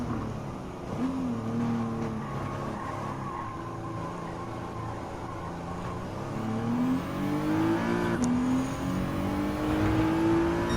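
Race car engine in Gran Turismo 7 on Tokyo Expressway East Outer Loop, rising and falling through gear shifts with a sharp change near the end and a long climbing rev, close and steady, no talk.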